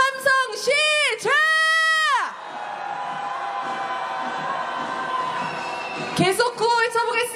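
Protest crowd at a candlelight rally march roars with sustained shouting and cheering for several seconds, loud and dense, framed by a leader's amplified chanted slogans before and after.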